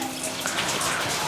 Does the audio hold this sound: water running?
yes